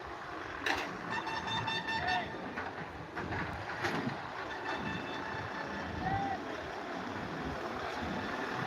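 Reversing beeps from a loading truck at the Guntur chilli market, repeating steadily over a dense bed of crowd murmur, engines and market bustle, with voices faintly audible in the background.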